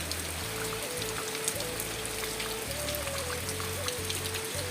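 Continuous rain falling, an even, unbroken hiss with no breaks, while a low tonal hum shifts through stepped notes underneath.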